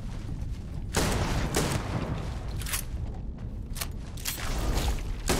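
Gunfire in the space video game Starfield, a few sharp shots cracking out against a steady dense background of game noise, with no talk over them.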